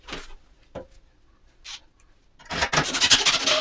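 Long black 2 3/8 inch screws are driven through drywall into a wood stud to secure a woodstove pipe: a few faint scrapes and rubs, then a louder, close grinding burst as a screw bites in.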